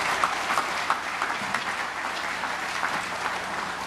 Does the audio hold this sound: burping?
no